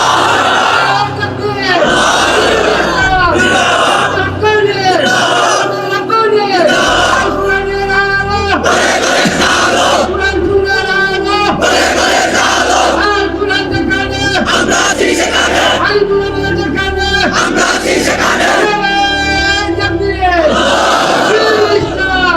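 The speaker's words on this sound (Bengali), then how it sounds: "বলো ইনশাআল্লাহ, জোরসে বলো, বলো, তোমরাই স্লোগান দাও" A large crowd at a Bangladeshi religious gathering shouts Islamic takbir slogans in loud unison, a rhythmic run of massed chanting bursts with a voice leading the call between them.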